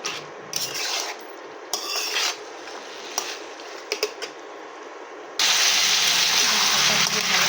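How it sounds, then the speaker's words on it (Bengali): Drumsticks being stir-fried in a fish curry pan: scraping, rasping spatula strokes and sizzling, with intermittent clacks, growing into a loud continuous hiss in the final seconds. "ডাঁটাটা দিয়ে ভালো করে কষে নিচ্ছি।"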